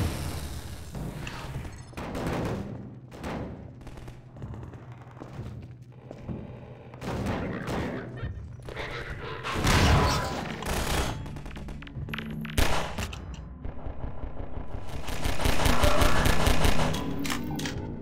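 Rapid bursts of automatic gunfire and single shots in Half-Life 2, loud and close, with short pauses between volleys and heavier thuds near the end.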